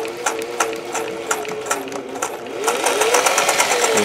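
A sewing machine stitches with a Schmetz Universal triple needle and multicolored threads, producing a fast, regular mechanical clatter that speeds up slightly near the end, close and clear with no talking.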